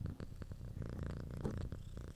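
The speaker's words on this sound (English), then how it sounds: "You could probably hear her purring like no one's business." A cat purrs steadily up close, a soft rhythmic rumble rising and falling with each breath, with no voices.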